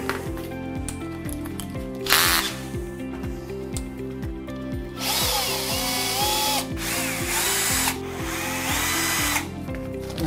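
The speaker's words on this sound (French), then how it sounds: "On vient percer le mur." A power drill bores into a wall while a shower enclosure profile is mounted, loud and close, with the motor whining in several bursts and a ratcheting rattle under it.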